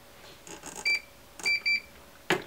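A multimeter on continuity test gives short sharp electronic beeps, about three quick tones, while probing a shorted IC on a plasma TV Y buffer board, close and clear over a quiet background.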